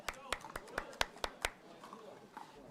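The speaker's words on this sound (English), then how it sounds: "Let's get a round of applause." A few sharp hand claps, about seven quick evenly spaced claps from what sounds like a small group or a single person, tapering off into faint talking voices.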